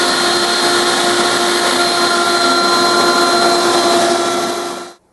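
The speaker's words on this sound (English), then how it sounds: "The next part of the profile is to cut this, which is using a 1/2 inch core box bit," A router table cutting wood with a 1/2 inch core box bit, a loud steady high-pitched whine with a grinding edge, holding constant for several seconds before cutting off abruptly.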